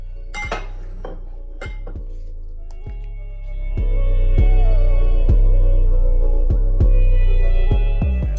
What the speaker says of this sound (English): Stir this up a little bit again.